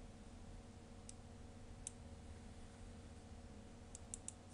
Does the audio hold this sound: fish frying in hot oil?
no